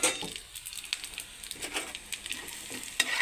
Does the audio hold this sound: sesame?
yes